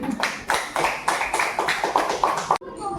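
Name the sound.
classroom applause for group presentation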